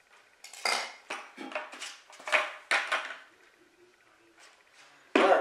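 A small knife scrapes and cuts through a plastic bucket to make a hole for a 3/4-inch grommet in a hydroponic Dutch bucket, heard as a series of short, sharp rasping strokes in bursts, ending with a louder scrape.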